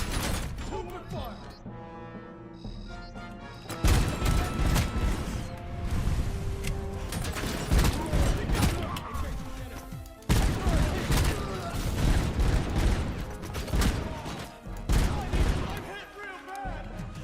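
Video-game gunfire in a squad firefight, with sustained bursts and volleys of shots, loud and busy throughout, while players talk over it.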